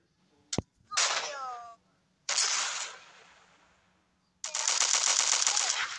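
Gunfire in the Milk Choco shooter game: a sharp single shot followed by three bursts of rapid automatic fire, close and loud, separated by short pauses.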